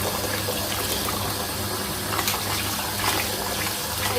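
Dandelion greens being washed under running water, a steady broadband rush of flowing water with faint splashes and handling noises throughout, no voices.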